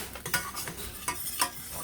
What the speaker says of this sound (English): I am going to give it a quick stir.